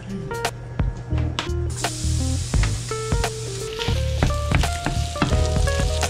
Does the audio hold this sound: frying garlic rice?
yes